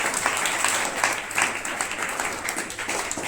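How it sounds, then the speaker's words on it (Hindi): A classroom of students applauds a classmate named Hammad, a dense burst of clapping with uneven swells that holds steady to the end. "हम्माद के लिए तालियां बजाइए।"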